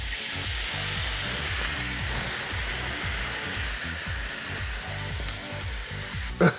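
White Hennessy cooking down in a steak sauce of brown sugar and garlic in a pan alongside a rib eye, a loud continuous hissing sizzle with rhythmic bubbling pulses, ending in a short sharp knock.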